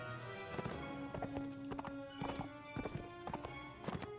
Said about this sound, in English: Horse charge for 1 damage. You get him, horse.